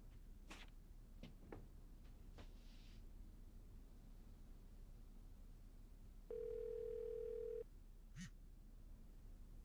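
A telephone dial tone in a domestic indoor scene, a steady continuous hum lasting about a second and a half after some faint background clatter, heard alone at moderate level.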